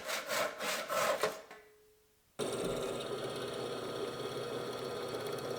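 Rotary tool with a cutting bit grinding a tang slot into a wooden knife handle, a pulsing, rasping cut at first, a short quiet gap, then a steady close whine running to the end.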